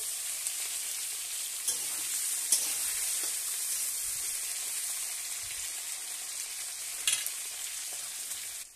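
Thinly sliced bitter gourd frying in hot oil gives a continuous, moderately loud crackling sizzle with occasional brief pops.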